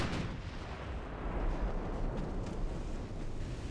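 A torpedo striking a warship in a naval battle video game set in 1895, heard as a low, rumbling explosion that rolls on steadily at moderate volume without a sharp break.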